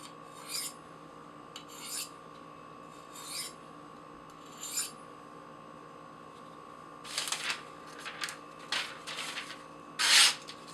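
Knife blade stroked over a Spyderco sharpening rod to clear a leftover burr, giving light, evenly spaced scraping swipes that later come quicker and closer together, over a steady faint hum.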